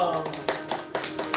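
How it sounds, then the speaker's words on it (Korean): A church congregation at a Korean Sunday worship service claps in a steady, even rhythm, sharp hand claps at a brisk pace under a murmur of voices. "이 박수로 하나님께 영광 올립시다"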